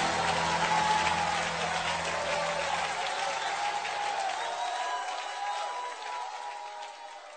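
Loud, steady applause from a worship crowd filling the whole clip, gradually thinning out toward the end.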